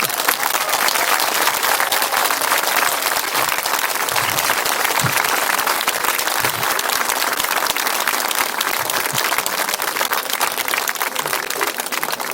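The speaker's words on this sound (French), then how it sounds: "Mesdames et messieurs, je vous demande d'applaudir comme il se doit Madame Génie Clève" An audience applauds steadily throughout at an outdoor ceremony for the christening of a festival giant, with a dense, continuous wash of clapping at close range and no talk over it.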